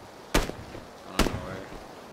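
Three sharp, loud gunshots ring out from a PUBG match, evenly spaced about a second apart, each a sudden crack with a short tail.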